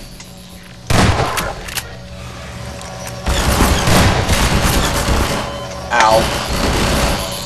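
Automated turret fire in Half-Life 2, rapid bursts of shots and mechanical clatter coming in two sustained volleys, loud and close, with a man's brief pained cry.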